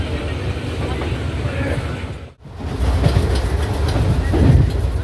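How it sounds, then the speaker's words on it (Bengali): A passenger train running from Howrah to Tarapith gives a loud, continuous rumbling roar with rattling wheel noise. The sound briefly drops out, then returns heavier and steadier. "আমাদের ট্রেন এখন ছেড়ে দিয়েছে হাওড়া থেকে তারাপীঠের উদ্দেশ্যে"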